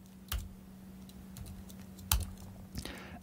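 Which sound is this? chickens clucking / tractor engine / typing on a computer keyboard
typing on a computer keyboard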